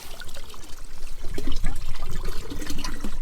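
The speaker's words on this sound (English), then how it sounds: "filling up the water tank from here, and fresh mountain water" Fresh mountain water pours into a camper van's water tank in the Spanish mountains, a loud close gurgling and splashing that rises and falls in quick uneven pulses, with no voices.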